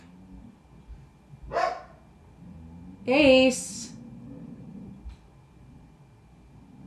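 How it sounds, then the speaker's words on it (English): A dog barks at someone across the road, two sharp barks about a second and a half apart, loud and close, with a calm indoor voice speaking briefly. "Barking at someone across the road."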